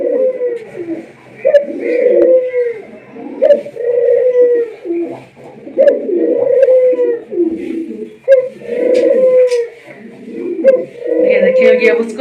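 Doves cooing close by, repeated soft throaty coos in a steady rhythm, with short pauses between phrases.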